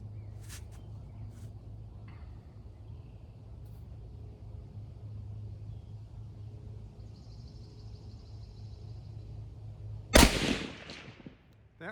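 A single sharp, loud gunshot from a T/C Super 14 pistol chambered in .30 Herrett rings out near the end, cracking over a steady low rumble of outdoor background noise, with a brief decaying echo afterward.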